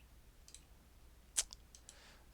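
A few faint, sharp clicks of a computer mouse, scattered over a couple of seconds with one louder snap in the middle, close and otherwise quiet.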